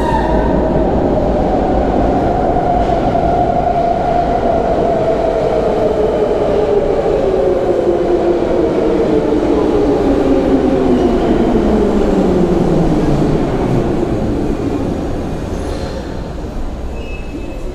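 A Warsaw Metro M1 train runs through a station at rush hour, a loud continuous rumble with a whining motor tone that falls steadily in pitch as it slows, fading slightly at the end.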